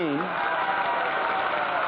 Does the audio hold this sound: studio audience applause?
yes